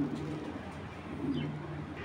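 A 2023 racing pigeon at a breeding loft gives a low, soft cooing, close and steady, over a constant background murmur.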